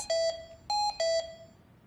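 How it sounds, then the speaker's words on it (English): Three short electronic alarm beeps in a quick, uneven pattern, clear pitched tones ringing out alone in a quiet room. "Check whether the correct alarm lamp and alarm sound are generated"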